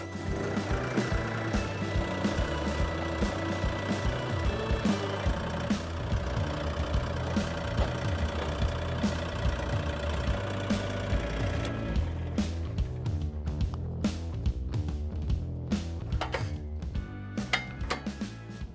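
A heavy diesel tractor engine runs steadily and close while driving into a skid steer quick-attach implement, with a low chugging rumble and occasional metallic clanks and knocks, growing choppier toward the end.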